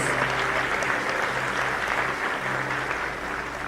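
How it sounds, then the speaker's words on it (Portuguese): Loud, sustained applause from a large church congregation, steady clapping that fills the whole stretch without letting up. "Você recebe, aplauda Jesus"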